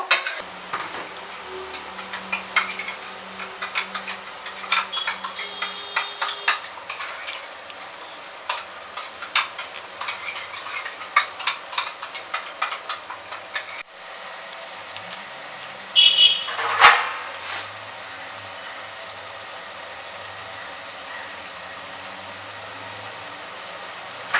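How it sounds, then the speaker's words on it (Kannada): Masala frying in oil for a country-style chicken biryani, a low steady sizzle with frequent scraping and stirring clicks from a spatula, close up, followed by a quieter stretch and a brief burst of louder stirring, no voices. "ಇದು ನೀಟಾಗೆ ಇಲ್ಲೇನೆ ಹಸಿ ವಾಸನೆ ಹೋಗ್ಬಿಟ್ಟು ಇಲ್ಲೇ ಎಣ್ಣೆ ಬಿಡೋ ತನಕ ಫ್ರೈ ಆಗಬೇಕು"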